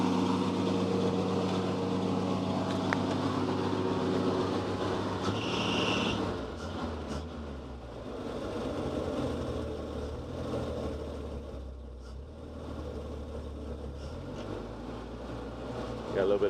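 Engine idling steadily after its fuel pump was reprimed, a low continuous rumble with a brief higher whine partway through, heard from close by under light background noise.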